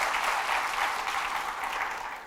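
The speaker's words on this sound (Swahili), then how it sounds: "nawaomba tupigie tu jamaa makofi" Audience applause during a storytelling show about the runner Henry Rono, a steady wash of clapping hands filling the whole moment, fairly close and without voices over it.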